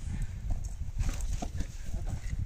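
Hooves of a mare clopping on the ground as she shifts around during mating, a steady irregular patter of muffled thuds at moderate distance over continuous outdoor background noise.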